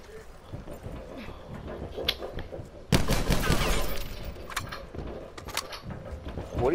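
Gunfire in a military video game: scattered distant shots give way to a sudden loud burst of rapid fire about midway, which then continues in rattling volleys with faint voices underneath.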